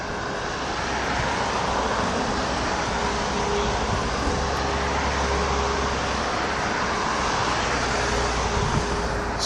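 Trucks roll down the quay toward the bulk carrier JS Mississippi at the grain terminal of Port Est, Réunion Island, a steady, loud rumble of engines and road noise with no break.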